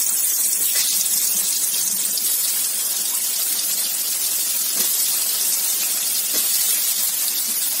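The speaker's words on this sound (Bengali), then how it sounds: "এখন এটা আমি তেলের মধ্যে দিয়ে দিচ্ছি। তেলটা আমার গরম হয়ে গেছে।" Potato pieces coated with salt and turmeric dropped into hot oil, giving a loud, continuous hiss and sizzle of frying that stays steady throughout.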